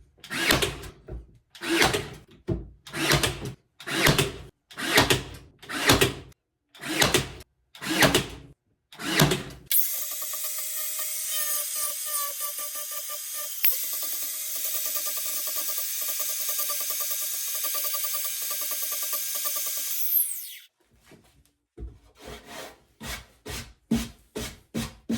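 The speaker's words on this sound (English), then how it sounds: "we're going to angle grinder a lot of it down" An angle grinder works over a wooden box in one long, loud, steady grinding pass, framed by sharp repeated rasping or sawing strokes before and quicker strokes after.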